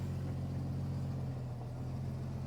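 A rolled Jeep's engine idles steadily at close range, a constant low rumble with a faint hum running evenly throughout, no voices over it.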